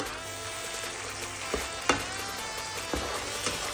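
Prawns frying with spices for a Rangpur-style chingri curry, with a continuous bright sizzle and a few distinct scraping stirs of the spatula, close and without voices.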